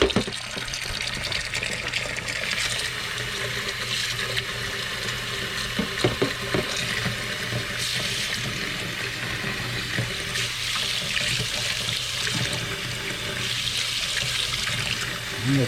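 A tap runs steadily into a sink as a cleaned piece of silver is rinsed, a continuous close splashing hiss with small clatters throughout.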